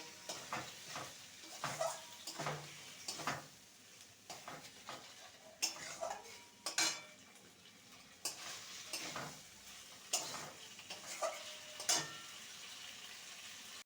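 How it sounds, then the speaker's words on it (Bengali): A spatula stirs fried vegetables with spices in a pan for a Bengali fish curry, giving repeated scraping clinks and soft sizzling in irregular bursts, close and with no talking. "ভেজে রাখা সবজিগুলো দিয়ে দেবো ভালো করে মশলার সাথে কষিয়ে নেব"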